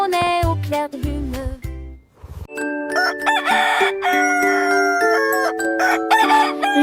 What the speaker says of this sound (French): Le coq chantant pour commencer la journée.